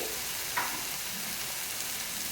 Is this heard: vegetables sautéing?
yes